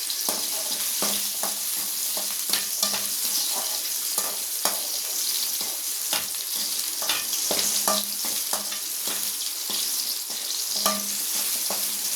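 Onions sauté in a pan for a Tamil spicy coconut chilli chutney, a bright steady sizzle with frequent rhythmic clacks and scrapes of a spatula stirring them, close by and unaccompanied by speech.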